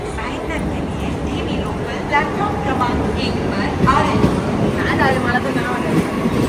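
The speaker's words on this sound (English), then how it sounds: "Looks like my train has come." A Mumbai local train rumbles into a station with a steady low roar and some rail clatter, while people talk in the background.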